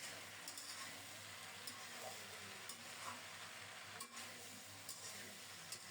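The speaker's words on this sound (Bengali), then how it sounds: "এখন দেব বাঁধাকপি ভেজে রাখা আলু কলা আর বেগুন সব সবজি দিয়ে দিলাম" Cabbage, potato, plantain and eggplant frying together in a pan, a steady soft sizzle throughout with occasional faint stirring scrapes, no voices.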